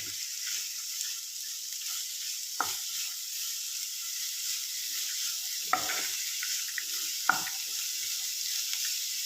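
Chopped spring onion stalks hiss softly in a hot pan, a steady gentle sizzle broken by three brief scraping stirs of a spoon, close and fairly quiet.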